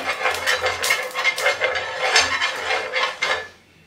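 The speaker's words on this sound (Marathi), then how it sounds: "मी इथे थोडंसं तव्याला तूप लावून घेत आहे" Ghee being spread on a hot tawa over a gas flame, with quick metallic scraping and clinking of a spoon against the griddle in a busy close rhythm that fades at the end.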